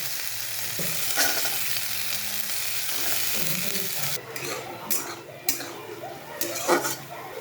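Capsicum, grated ginger and peas fry in a wok, sizzling steadily up close while a spatula stirs and scrapes the pan in occasional sharp strokes.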